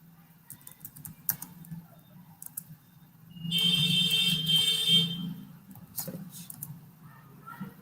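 A shell script typed on a computer keyboard, with scattered close keystroke clicks throughout and a loud steady high tone sounding for about a second and a half midway.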